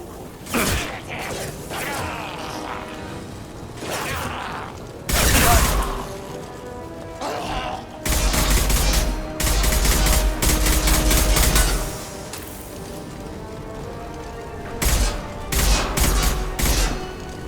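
Automatic weapons fire in repeated bursts during combat in the video game Mass Effect 2, loud and close, over mechanical clanks and clatter.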